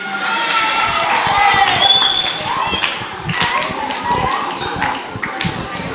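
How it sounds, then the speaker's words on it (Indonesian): Junior high students at a school Ramadan program clap for a classmate, a crowd of hands beating steadily at close range while voices chatter over it. "kasih tepuk tangan dulu ke teman yang berani tanya"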